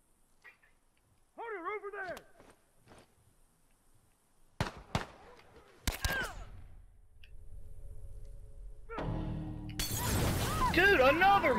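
In The Last of Us multiplayer, a Molotov cocktail shatters and bursts among sharp cracks and impacts, followed by rising fiery noise. Players' voices are heard over the game sounds.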